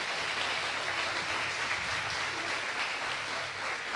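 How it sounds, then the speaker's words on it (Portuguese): A church congregation clapping together, a thick steady wash of many hands applauding at even loudness throughout with no voices standing out. "Você pode aplaudir o Senhor por isso, em nome de Jesus?"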